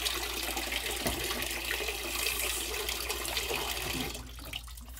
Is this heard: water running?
yes